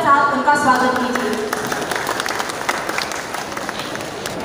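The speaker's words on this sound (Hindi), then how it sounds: "A big round of applause for students of Government Degree College, JB North Cove." Audience applause greets a Government Degree College student dance troupe at a Solung celebration, a dense, steady clatter of many hands lasting several seconds after a brief voice at the start.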